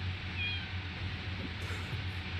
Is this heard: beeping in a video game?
no